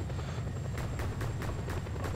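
A helicopter in Just Cause 2 drones steadily, its rotor thudding in an even, rapid beat over a constant engine hum, close and unbroken.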